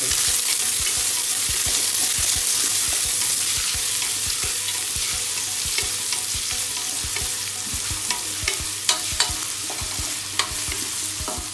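Sliced onions sautéing in a pan for chicken biryani in a cooker, a steady oily sizzle punctuated by frequent rhythmic scraping and knocking of a spoon stirring against the pan, close and loud.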